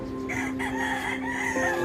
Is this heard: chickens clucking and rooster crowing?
yes